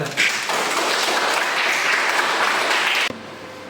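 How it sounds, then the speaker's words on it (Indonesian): A class of students bursts into applause, a thick continuous wash of many hands clapping that holds steady for about three seconds and then cuts off abruptly, leaving near quiet. "Tepuk tangan dulu."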